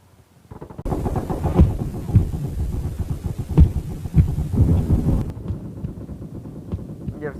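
Gunfire in the PUBG Mobile video game sounds as a dense run of booming shots and rattling bursts, close and loud, with heavy rumbling between them and faint game voices.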